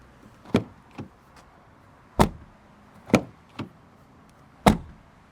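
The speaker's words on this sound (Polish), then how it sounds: "słuchamy, czy drzwi zamykają się z należytą kulturą" Doors of a BAIC BJ30 HEV hybrid SUV shut several times, sharp solid thuds spaced a second or two apart, each followed by a softer latch click, with quiet surroundings between.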